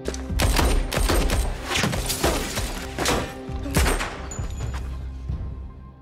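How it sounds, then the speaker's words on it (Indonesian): Chaotic bursts of gunfire and rattling shots overlap with crashes and thuds, loud and dense like a movie shootout, fading slightly toward the end. "terjadilah aksi tembak-tembakan"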